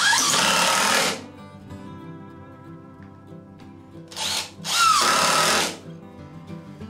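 Cordless power drill driving a couple of screws into a wooden front foot while building a bead breaker, two loud whirring bursts of about a second each, the second split into a short and a longer run, with quiet pauses between.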